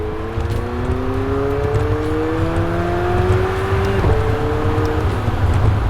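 McLaren 720S Spider with the top down, its engine droning and rising in pitch as it revs, steady and loud throughout, with a sharp crack near the middle.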